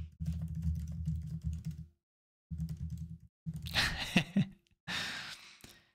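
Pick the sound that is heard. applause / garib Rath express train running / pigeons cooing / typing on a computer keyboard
typing on a computer keyboard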